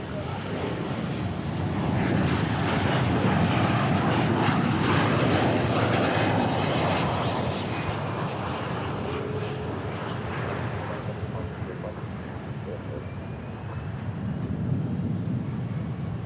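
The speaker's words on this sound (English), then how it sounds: "787 Dreamliner." A Boeing 787 Dreamliner jet airliner at DFW Airport roars past at a distance, its broad engine rumble swelling and then slowly fading with light wind noise.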